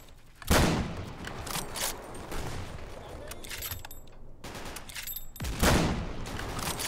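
Sniper rifle shots in the Roblox war game Unit 1968: loud single cracks with echoing tails, spaced irregularly over a steady game background, two especially strong blasts standing out.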